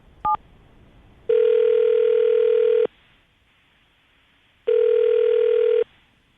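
A telephone dials out: a quick pair of dial tones, then two long, loud electronic ringback tones separated by a pause, with no talking.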